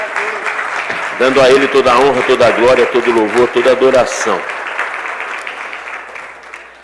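A church congregation claps during a Sunday morning service while a voice speaks loudly over the applause, which thins and fades out toward the end.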